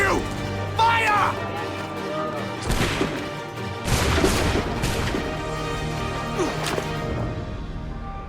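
Cannon and gun fire in the Assassin's Creed III video game, with loud booms and crashing impacts spread through the clip under voices and battle noise.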